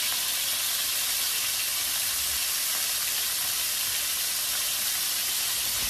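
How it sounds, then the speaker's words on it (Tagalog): Pork chops fry in a hot pan on lowered heat, giving a steady, dense sizzle and hiss that runs unbroken throughout with no talking. "Nakakatakot lang talaga magprito sa totoo lang kasi nga matalsik siya"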